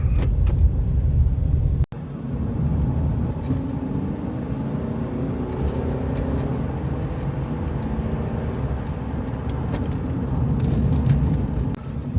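Cabin sound of a Mercedes C-Class W205 on the roads of Abidjan as it is shifted into drive and rolls off, with a low, even engine and road rumble after a short break near the start.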